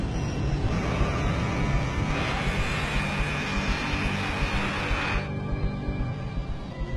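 A China Airlines jet airliner just after landing, engines running: a loud, continuous, broad engine roar that holds steady, with a brighter high whine that fades out after about five seconds, and no voices.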